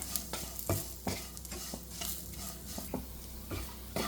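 Spice powders frying in a pan for Kerala-style okra curry, stirred with repeated scraping strokes over a steady sizzle, close and fairly loud with no voices.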